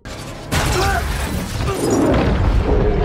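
A sudden loud boom bursts in and gives way to a sustained, roaring rumble with crackling debris, dense and full like a film explosion, from the film Maze Runner.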